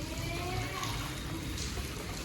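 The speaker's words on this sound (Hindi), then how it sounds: "बारिश तो अब थोड़ी हल्की हो गई है," Light rain falls steadily in a village during the rainy season, a constant close hiss of drops and trickling water with no pauses, while a person speaks under it.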